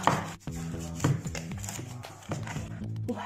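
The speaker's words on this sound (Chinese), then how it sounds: "大鲅鱼切块" A knife chops a large three-jin Spanish mackerel into chunks on a board, giving a steady series of dull, close knocks in an irregular rhythm under faint background music.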